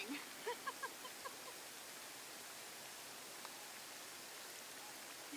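Warm beach water fizzing at Partridge Island, a steady, faint broadband hiss like fine bubbling that runs through the whole stretch, with a few soft vocal sounds near the start.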